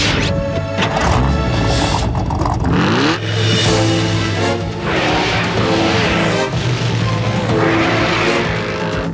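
Cars in a video game chase, loud engines revving and roaring with tire skids and crash impacts layered over a busy game soundtrack, continuous and close.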